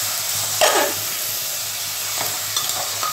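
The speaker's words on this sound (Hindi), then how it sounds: "फिर इसको चलाइए, थोड़ा सब्जी को पूरा हिलाइए ताकि मसाला इसमें पूरी अच्छी तरीके से मिक्स हो जाए" Bottle gourd curry with spices is stirred in a hot pan, a spoon scraping briefly over a steady sizzle, close and without speech.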